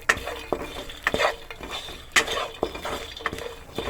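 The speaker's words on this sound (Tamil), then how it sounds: "ப்ரெட் போட்டுட்டு ஒரு கிளறிட்டு" Bread pieces are stirred and tossed in a hot pan while roasting, giving scraping clinks of a spoon against the pan in irregular strokes over a soft sizzle.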